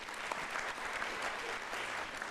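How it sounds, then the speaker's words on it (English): Audience applause at the close of a keynote panel discussion, a steady wash of many hands clapping at moderate distance that holds evenly for a couple of seconds without voices. "Round of applause for Liz."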